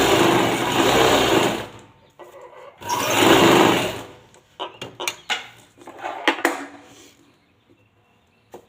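A sewing machine stitches cloth for a simple neckline in two loud, steady whirring bursts, then falls quiet with scattered clicks and fabric handling.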